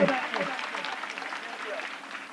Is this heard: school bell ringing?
no